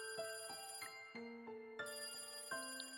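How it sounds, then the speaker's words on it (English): A telephone rings in the video game Higurashi When They Cry, a repeating electronic ring of bright, bell-like tones in a steady pattern, clear and alone with no voices. "Then the phone rang."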